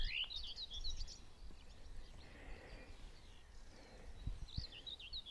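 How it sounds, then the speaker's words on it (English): Birds sing faintly in open countryside on the South Downs, with short chirping phrases at the start and near the end over soft wind and outdoor background noise. "And I don't know if you can hear the birds."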